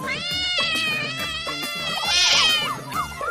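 A cat meows repeatedly in close, clear cries, some stretched into a wavering caterwaul, with a bright rising call in the middle and no talking over it.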